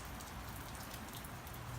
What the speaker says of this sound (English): Well, the rain has just started. It's not really a very hard rain. It's a pretty gentle rain.